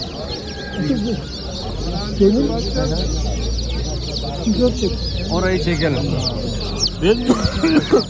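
Chickens and roosters cluck and squawk close by at a busy poultry market in Kırıkkale, with people talking among the birds and a low background rumble.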